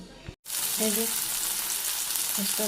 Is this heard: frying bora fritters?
yes